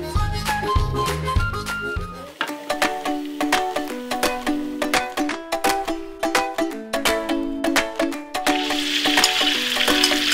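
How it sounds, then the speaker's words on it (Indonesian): Ground spice paste sautéing in a pan for a coconut-milk dish, giving a steady sizzle with repeated stirring scrapes and clinks from a spoon, mixed with sustained tonal sounds throughout. "Tumis bumbu halusnya sampai keluar aroma sedapnya."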